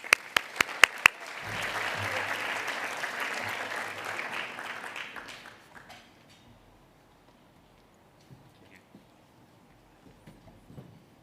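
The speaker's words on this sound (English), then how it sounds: "Applause, please." A few sharp claps open before an audience at a Legislative Council welcome event breaks into a moderate wave of applause that swells, holds about four seconds, then dies away to a quiet room with scattered small noises.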